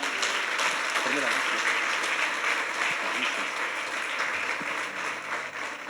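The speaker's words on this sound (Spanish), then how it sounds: "Denle un aplauso al Señor" A church congregation claps for the Lord after a prayer of repentance, a steady sustained wash of applause under an amplified voice.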